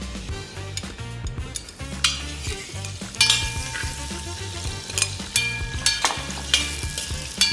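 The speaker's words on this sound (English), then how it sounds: "इसको हम हल्का सा बिल्कुल sear कर रहे हैं, कलर कर रहे हैं थोड़ा सा." Eggs and potatoes sear with turmeric in a hot pan, giving a continuous crackling sizzle. Repeated scrapes and clinks of a stirring utensil sound throughout, over quiet background music.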